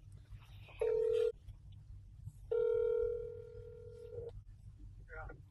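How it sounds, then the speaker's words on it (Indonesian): A telephone call is dialed from inside a car, giving a short steady tone and then a longer sustained dial tone, with faint background hum. "Sebaiknya saya telepon. Saya telepon saja."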